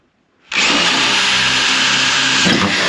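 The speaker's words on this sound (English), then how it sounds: "set the drill against here like this" Power drill boring holes in the body of a Ford Transit van during window installation; after a short silence the drill whines loud and steady up close, continuing without a break.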